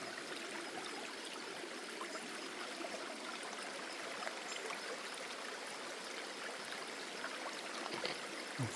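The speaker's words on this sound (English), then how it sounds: "It's a river." A steady rush of water flowing across a hiking trail in Shenandoah during heavy rain from Hurricane Helene, a constant broadband wash with faint trickles, no voices.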